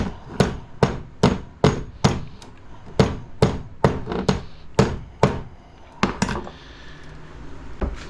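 Sharp hammer blows knock the plastic parts off a small commercial exhaust fan motor, about a dozen loud, evenly spaced metallic strikes followed by a brief quieter pause and one last hit, with no talking.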